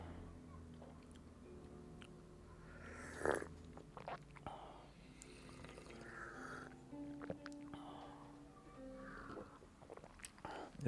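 Tea slurped during a traditional gong fu cha brewing session, a short, soft sucking burst in a quiet room with faint mouth sounds around it.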